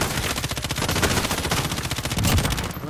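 Rapid automatic fire from an M13 rifle in Call of Duty Modern Warfare, a fast even stream of loud cracking shots that runs nonstop for about three seconds before cutting off.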